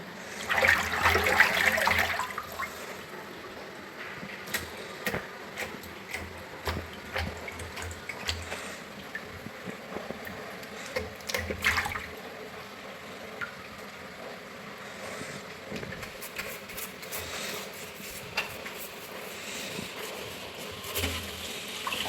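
Water gurgles and trickles away down a previously clogged kitchen sink drain, with intermittent splashes and clatters of dishes scattered over a low steady background hum.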